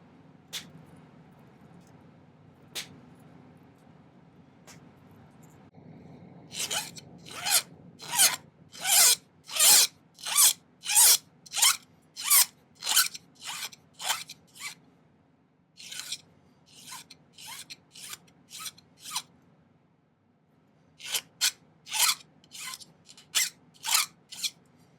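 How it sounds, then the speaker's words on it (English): Small metal projections on a handmade jewelry setting for a turquoise nugget being snipped and filed, quiet isolated clicks followed by bursts of rhythmic rasping strokes in quick series, separated by pauses, close and alone. "I'm going to clean this up by snipping these and filing them off."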